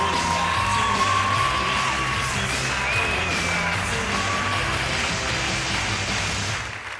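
A crowd applauds and cheers for comedian Thomas Wiesel at a Montreux comedy show in 2013, a steady wash of clapping with scattered whoops and shouts that fades slightly at the end.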